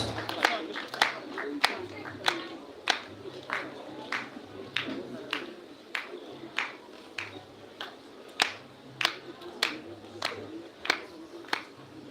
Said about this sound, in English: we clap as our ministry officials come forward